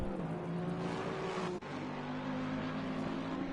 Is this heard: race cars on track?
yes